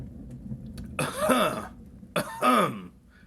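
Two forceful coughs about a second apart, close and clear, with a quiet pause between them.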